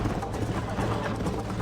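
Horse hooves gallop in the Red Dead Redemption video game, a quick rhythmic clip-clop running beneath excited voices talking over it.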